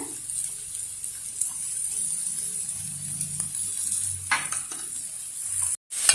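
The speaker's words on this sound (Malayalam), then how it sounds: "ഇതാ നമ്മുടെ ബീറ്റ്റൂട്ട് നമുക്ക് ഇനി ഇതിനകത്തേക്ക് ആഡ് ചെയ്യാം ഇനി ആവശ്യത്തിന് ഉപ്പും കൂടി ഇട്ട് കൊടുക്കണേ" Sliced beetroot stir-frying with salt in a pan for a Kerala-style mezhukkupuratti, giving a steady close sizzle with scraping stir strokes throughout and a brief drop near the end.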